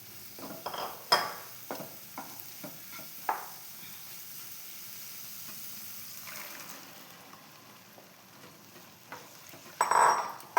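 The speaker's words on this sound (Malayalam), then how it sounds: "അപ്പോൾ ഞാൻ കടല ഇതിലേക്ക് ഒഴിച്ച് കൊടുക്കുന്നുണ്ട്." Chickpeas for a curry are tipped into a pan, giving a soft sizzle and watery bubbling, with several sharp clinks of a utensil against the pan and a louder clatter toward the end; no one speaks.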